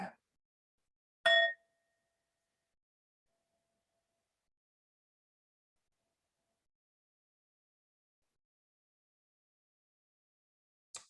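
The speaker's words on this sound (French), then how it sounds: "on commence avec notre signal de la sonnette" A single clear bell chime rings out with a lingering tone, followed by long silence and another brief ring at the very end.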